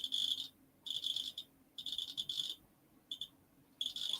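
A ghost hunting device's loud buzzer sounds in four high-pitched electronic bursts of about half a second each, separated by short gaps, close and clear over a quiet room.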